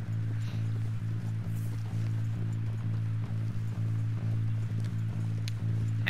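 Steady, rhythmic clip-clop of horse hooves trotting along at an even pace over a constant low hum, with no talking, in the video game Red Dead Redemption 2.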